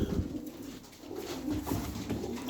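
Hünkari pigeons coo softly from inside a box, low repeated throaty calls overlapping close by with faint shuffling.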